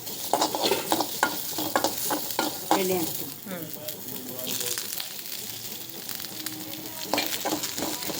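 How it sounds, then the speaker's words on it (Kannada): Onions fry in oil in a home kitchen for green chilli mutton, giving a steady crackling sizzle broken by repeated stirring scrapes, with faint speech in the background. "ಈಗ ಉಳ್ಳಾಗಡ್ಡಿ ಫ್ರೈ ಮಾಡಬೇಕು"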